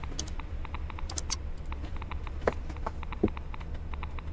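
A faulty computer keyboard clatters under quick, uneven typing, with light clicks in small clusters and a few heavier key strikes, close and fairly quiet, with no voices over it.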